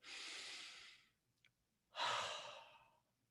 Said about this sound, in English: Let's completely breathe together.